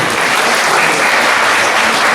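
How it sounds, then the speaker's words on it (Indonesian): An audience applauds at an Indonesian Nikon photography road show event, a loud, continuous wash of clapping that fills the whole moment evenly without breaks or speech. "Tepuk tangan"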